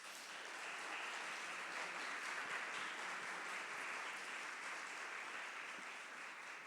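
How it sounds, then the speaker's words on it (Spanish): Sustained applause from a conference audience at a film industry event, dense steady clapping that holds at an even level throughout, fairly distant and diffuse. "quiero pedir un fuerte aplauso para Hannah Wolf."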